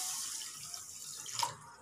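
Water is poured from a glass into a kadai holding sugar while making tutti frutti from watermelon rind, a brief soft splashing trickle, quiet and close.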